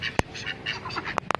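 Pet hens out in the rain give a few sharp, close clucks and squawks, with short bursts scattered unevenly over soft background patter.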